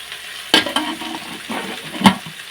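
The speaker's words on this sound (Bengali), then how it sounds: "উচ্ছে আলু ভাজা করছি" Bitter gourd and potatoes frying in a pan make a low sizzle under a few sharp scrapes and knocks of a spatula stirring them.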